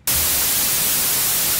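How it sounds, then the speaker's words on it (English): A Studiologic Sledge synthesiser gives out white noise, a bright, steady, loud hiss that starts abruptly and holds evenly. "By contrast, the white noise will be a lot brighter,"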